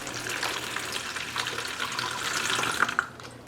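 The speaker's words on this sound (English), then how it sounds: "fill it to 250 milliliters and dump it into your gallon jug" Water from a measuring cup poured into a gallon jug, a soft, fairly quiet continuous trickle and splash that builds slightly toward the end.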